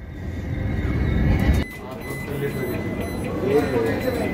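The 22302 Vande Bharat Express pulls into Malda station with a low rolling rumble that builds, then drops off abruptly, leaving quieter station ambience with people talking nearby.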